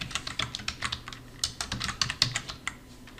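Rapid keystrokes on a computer keyboard while a file name is entered, a steady run of close, crisp clicks with irregular rhythm and no talk.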